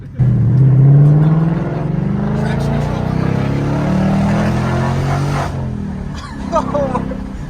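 A Ford Mustang 5.0 V8 with an H-pipe exhaust revs loud and close, its note rising and falling through downshifts with a few burbles, while people react excitedly over it.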